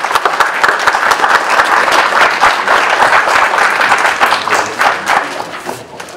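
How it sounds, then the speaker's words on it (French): Loud, dense applause from an audience at a hospital New Year's greetings ceremony in Josselin, with many hands clapping steadily in the room for several seconds. "On peut l'applaudir très fortement,"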